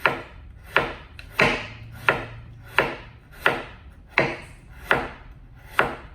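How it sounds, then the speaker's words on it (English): Knife slicing slowly through quartered kohlrabi on a cutting board, eight crisp evenly spaced chops with short pauses between, close and clear with no talking. "And then I'm just going to slice and just go slowly"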